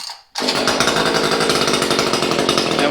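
STIHL MS 150 TC chainsaw on full choke catching after a pull start, bursting abruptly from near silence into a loud, rapid, buzzing two-stroke roar held close for a few seconds.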